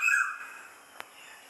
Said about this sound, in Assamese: চৰাইৰ মাত, বাহিৰৰ পৰিৱেশ